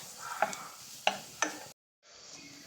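Onion, tomato, ginger and garlic roasting in a pan are stirred with three sharp scrapes over a soft sizzle, then a brief cut to silence before the frying resumes.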